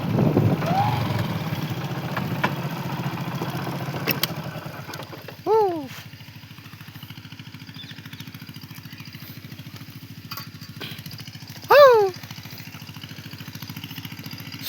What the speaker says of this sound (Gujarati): આપણો એક ભાઈબંધ આ ટ્રેક્ટર ચલાવે છે